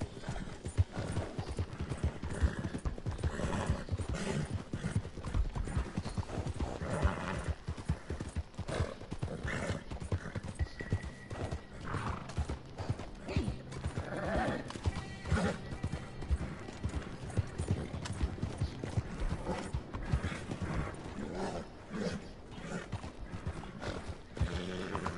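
Horse hooves clip-clop steadily through a Red Dead Redemption 2 scene, with a whinny rising over the constant rhythmic footfalls, fairly quiet overall with little talk.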